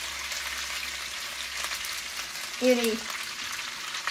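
Food frying in hot grease with a steady crackling sizzle, a brief spoken word cutting in partway through.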